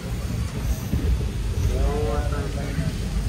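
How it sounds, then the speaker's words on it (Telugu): Rain and gusting wind start up outside the moving Karaikal–Tambaram Express near Nagapattinam, a dense rushing roar with low rumbles and a brief tonal, voice-like sound partway through. "స్టార్ట్ అయింది ఇప్పుడే వాన."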